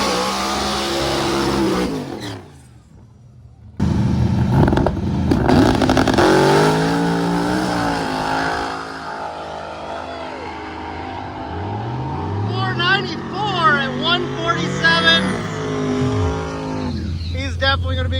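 Loud drag race car roaring and accelerating down the strip at a diesel-heavy race event, engine note rising in bursts with crowd noise and an announcer-style voice talking over it.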